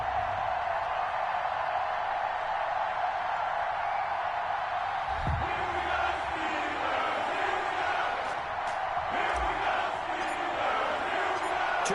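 A stadium crowd roars continuously before an Eagles versus Steelers game in Madden NFL 21, a dense, sustained wall of cheering and shouts with occasional whoops rising out of it.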